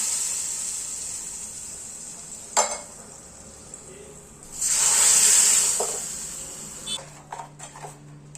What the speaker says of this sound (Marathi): आणि मस्त अशी फोडणी भाजीवर घालून घ्यायची.